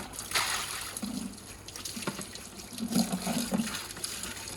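A tap runs in a steady trickle while a container lid is rinsed under it, with soft splashes and faint knocks of the lid close by.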